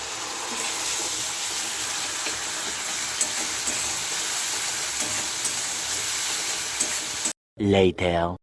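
Ground tomato paste going into spices frying in a pan, giving a steady close sizzle and hiss for several seconds before a voice briefly speaks at the end.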